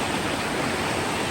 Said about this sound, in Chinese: 小桥流水呀、我特别喜欢